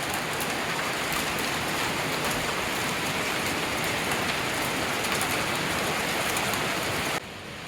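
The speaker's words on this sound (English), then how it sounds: "Aw, hail." Hail comes down outdoors at a farmhouse under construction, a dense, loud, continuous pelting hiss of ice striking surfaces that cuts off abruptly near the end.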